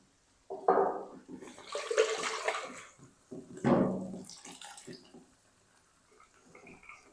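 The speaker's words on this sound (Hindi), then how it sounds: "और थोड़ा सा पानी डाल देंगे" Water is poured in a few splashing bursts into a karahi holding a spice paste for Afghani chicken malai kabab, each pour a close, gurgling rush separated by short pauses.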